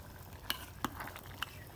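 A spoon stirs beef khichuri in a pot, making three or four distinct knocks and scrapes against the metal over a faint, low cooking hiss, with no voices.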